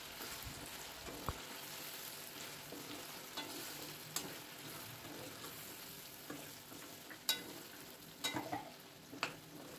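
Chicken fries with ginger garlic paste for a Telugu chicken pickle, a faint, even sizzle with occasional sharp clicks of a spoon against the pan.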